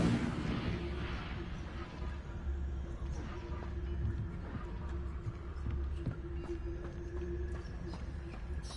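An Incendio fire spell is cast in a Hogwarts video game amid dense, continuous rumbling and crackling bursts, layered with clattering game effects and a steady low drone throughout.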